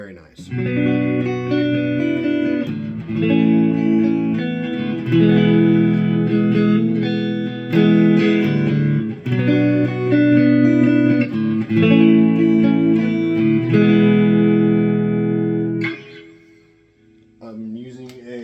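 Telecaster kit guitar through an Egnater Rebel 20 amp with a cheap reverb pedal, rhythmic chord phrases repeated in bursts with a washy tail, fading out near the end.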